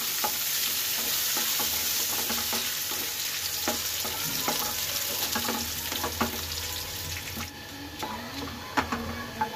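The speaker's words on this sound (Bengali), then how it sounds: "ঘির মধ্যে একটু হলে ভেজে নেব।" Cashews, almonds and raisins frying in hot ghee with a bay leaf, a continuous dense sizzle close by, dotted with soft clicks and spoon taps as they are stirred.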